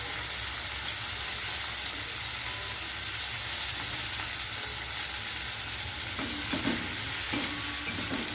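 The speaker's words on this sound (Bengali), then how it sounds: "কড়াইতে তেল রয়েছে এবার দেখো পেঁয়াজগুলোকে ছাড়ছি" Onions fry in hot oil in a wok with a steady crackling sizzle, close and loud, and a spatula scrapes and stirs through them in a few distinct bursts toward the end.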